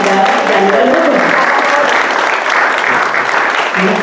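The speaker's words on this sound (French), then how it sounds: "on applaudit Madame Danielle Robert" An audience at a school-services launch event applauds steadily, a dense, loud burst of clapping from a crowd lasting several seconds without letting up.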